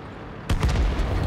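Artillery shot in the tank combat game World of Tanks lands as a sudden heavy boom, followed by a few rumbling secondary bursts fading quickly.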